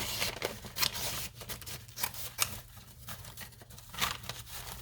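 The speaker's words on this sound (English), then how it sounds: "So I'll cut this part off that I'm not going to use." Paper being cut with scissors while shaping a papier-mâché Catrina figure, a series of short crisp snips and light paper rustles at close range, with no talk.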